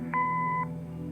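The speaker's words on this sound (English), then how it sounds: "Leave a message after the beep." Answering machine tone: a single clean electronic beep lasting about half a second, clear and steady over a low background hum.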